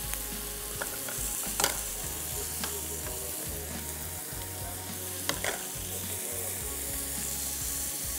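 Ingredients sauté in a pan with a continuous sizzle, a low hum underneath and occasional light scrapes and taps from stirring, close and steady.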